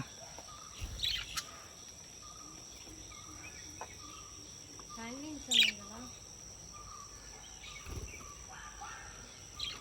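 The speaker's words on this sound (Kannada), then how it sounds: "ಪಕ್ಷಿಗಳಿದೆ." Faint bird chirps and a few short calls ring out over a steady background of insects at a resort in Wayanad, quiet and spread out.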